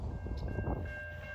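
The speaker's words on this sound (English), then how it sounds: "Got a westbound stack train at 9:50 in the morning. He's moving." A westbound CSX stack train rolls past on the Mohawk Subdivision, a low, continuous rumble of wheels and cars with a faint high whine above it, steady throughout and with no talking.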